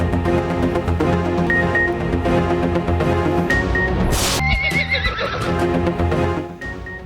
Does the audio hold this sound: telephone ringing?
no